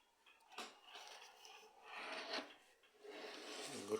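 Sandpaper rasps over a wooden part of a 1930s Anglo Swiss clock in short, quiet close-up strokes, a few back-and-forth rubs.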